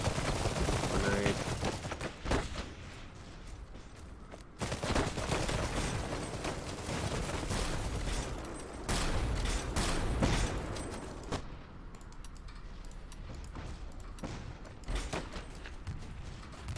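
Dense gunfire in the video game Iron Harvest as SMG soldiers fire on a unit behind cover, with loud continuous bursts and rattling volleys punctuated by heavier blasts; a voice talks over the fighting.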